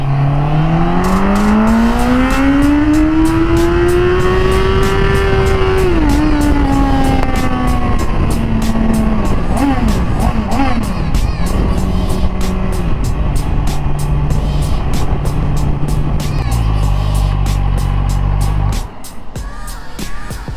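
A QJmotor Race 800 motorcycle engine revs up in a long rising-and-falling sweep, then settles into a steady idle, loud and close, before cutting off near the end.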